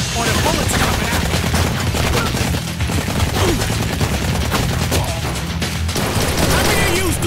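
Gunfire in the video game Blue Estate, a loud, unbroken barrage of rapid shots with impacts and clatter, a voice talking underneath throughout.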